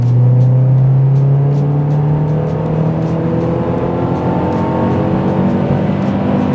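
MazdaSpeed 3 accelerating steadily in fourth gear during a 30-70 mph pull, a continuous loud engine drone with harmonics climbing smoothly in pitch, steady road and wind noise underneath and no talking.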